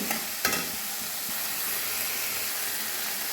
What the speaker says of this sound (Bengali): আবারও মশলাটা কষিয়ে নেব কয়েক টুকরো টমেটো দিয়ে দিলাম মশলার সঙ্গে